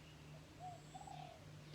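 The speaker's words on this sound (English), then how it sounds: "Maybe you also hear these birds right now as I'm hearing." Birds call outdoors on a quiet morning, a few soft cooing notes like a dove rising faintly over a steady low hum, distant and brief.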